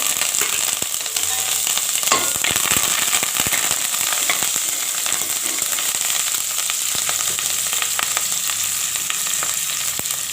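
Steady, loud sizzling of chilies and curry leaves frying in hot oil, with scattered crackles and pops running throughout and no talking.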